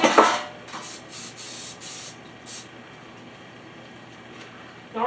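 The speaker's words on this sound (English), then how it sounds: "I don't know if you need to spray it, but I always do." Several short bursts of cooking spray hit a bread pan being prepared for banana bread, a quick run of hissy puffs near the mic, then quiet.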